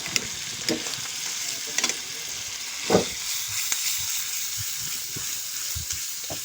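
Garlic sautéing in a pan, a steady broad sizzle with scattered stirring scrapes and a few sharper clinks, close and moderately loud with no talking.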